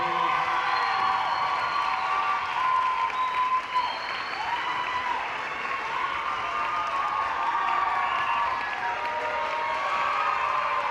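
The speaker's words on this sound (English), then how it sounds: "Let's give our 8th grade graduates one more round of applause" Graduation audience at a middle school eighth grade ceremony gives a sustained, dense round of applause with scattered cheers and whoops, steady and loud for the whole stretch with no talk over it.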